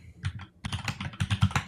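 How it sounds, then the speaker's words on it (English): Fingers type on a computer keyboard in quick irregular bursts of clicky keystrokes, close and fairly quiet, with a short pause before the flurry resumes. "You'll have to pardon my fucking keyboard types as I'm trying to remember what I was saying here."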